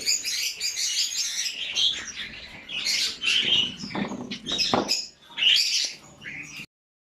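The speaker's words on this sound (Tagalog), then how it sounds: "nilalabanan natin yung ingay ng mga ibon" Dense chorus of many birds chirping and squawking close by, busy and overlapping, with occasional fluttering, continuing steadily before cutting off abruptly.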